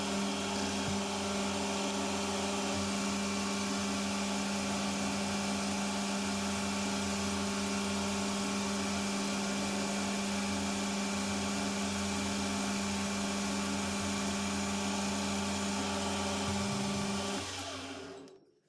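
A lathe skimming the outer face of a motor pulley, a steady loud machine whine with strong even hum tones holding for most of the run before winding down near the end.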